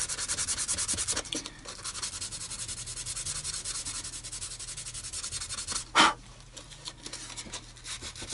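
Sanding on the wooden neck joint of a Baby Taylor guitar during a headstock repair: steady, close rasping strokes, with one sharper scrape partway through.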